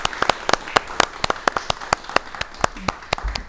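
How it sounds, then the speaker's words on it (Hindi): Audience of young cadets at an NCC event applauding: a scattered run of crisp, separate hand claps at a steady brisk pace, close and fairly loud, with no talking. "मैं चाहती हूं कि हमारे युवा साथियों से इस कार्यक्रम की शुरुआत एक जोरदार तालियों के साथ की जाए।"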